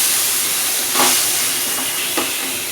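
Apple pieces for a sweet dessert cook in a pan with a loud, continuous hiss, broken by two brief stirring scrapes partway through.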